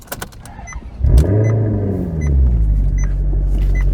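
A 2007 Maserati GranTurismo fires up with a sharp starter crank and loud engine catch, then settles into a deep, steady idle rumble that swells slightly, heard up close without any talking.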